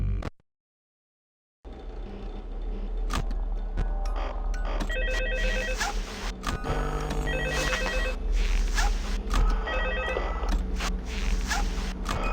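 A telephone rings repeatedly in the horror video game Five Nights at Freddy's 2, with regular bursts of ringing over a dense, noisy game background after a brief silence.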